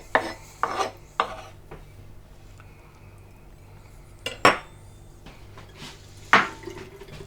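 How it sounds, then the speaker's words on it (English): Knife chopping scraped lemon flesh on a board for a Moroccan chicken tagine marinade: a few sharp, separate cuts and scrapes spaced through the stretch, close and crisp, with quiet pauses between them and no talk. "just chop it up as small as you can and put it into the white bowl for the marinade"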